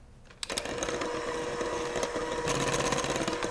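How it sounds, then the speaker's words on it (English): Chocolate cake batter of flour, cocoa powder and baking powder being whisked makes a steady, close whirring drone. It starts abruptly after a moment of quiet and holds loud and even to the end. "It's going in slowly as you whisk."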